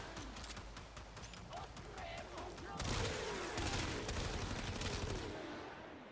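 Weapon alternate fire in the shooter game Warframe crackles in a dense, continuous stream of rapid shots and blasts, with faint talk under the loud game noise.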